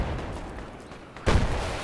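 A single heavy tank cannon shot in the military video game Project Reality, a deep booming blast that hits about halfway through over steady low battlefield rumble, loud and close with no talk.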